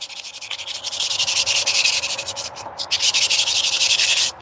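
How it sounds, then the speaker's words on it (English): Steady, close hand sanding of a wet-sanded surface, made up of continuous rhythmic rubbing strokes with brief pauses and no talking. "how far I should go with the sanding"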